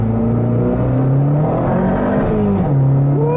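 A car with a newly installed Damond short shifter and shift-mount upgrades pulls hard in second gear, its engine note climbing loud and close through the rev range before easing off near the end.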